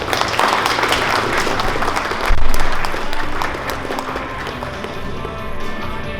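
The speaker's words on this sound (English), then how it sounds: "So a round of applause again" A crowd applauds at the awarding and closing ceremony of the IDAO 2019 final, a steady wash of clapping that swells briefly partway through and then carries on evenly to the end.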